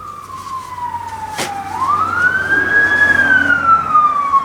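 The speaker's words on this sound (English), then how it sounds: "The police are after me again by the sounds of it." A police siren wails outside, its pitch sweeping down and then rising into a long, steady tone as it grows louder and passes by over a low traffic rumble.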